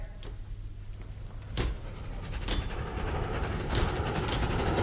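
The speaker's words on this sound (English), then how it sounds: "There's the train." A train rumbles through a small station with a steady low roar that builds over several seconds, broken by sharp clanks and bangs as the wagons pass.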